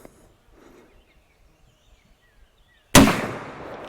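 A single rifle shot at an outdoor target range, fired through a rifle fitted with a UUQ Aspire ED 1-12x24 LPVO scope: one loud, sharp blast after near silence, followed by a decaying echo tail.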